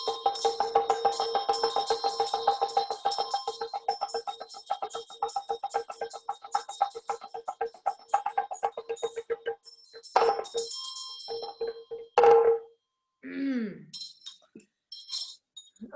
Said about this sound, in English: let's play Damaru and Bell and then practice